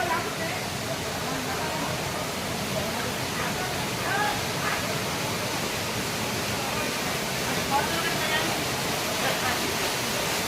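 Rampa waterfall flowing at reduced volume, a continuous broad rush of falling water that holds steady throughout, with voices talking faintly over it.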